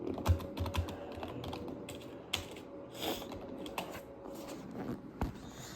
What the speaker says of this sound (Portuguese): deixa eu digitar isso aqui